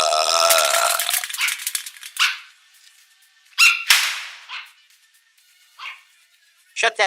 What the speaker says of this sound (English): Shut that fucking dog up.